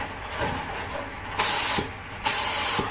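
Two loud, hissing bursts of epoxy paint from a spray gun with a modified nozzle, run at a pressure of 29, each lasting under a second after a quiet start, close and without talk.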